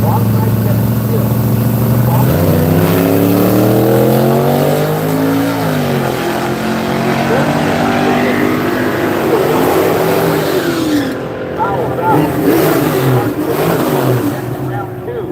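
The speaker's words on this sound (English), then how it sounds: "This time racing a 67 Camaro" A 1967 Camaro drag races at Seattle's Pacific Raceways, its engine loud and revving through rising and falling pitch sweeps, with a public-address announcer talking over the roar.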